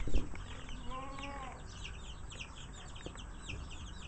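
Hens cluck and chatter softly in a farmyard, with a brief rising call early on and scattered bird chirps over steady background noise.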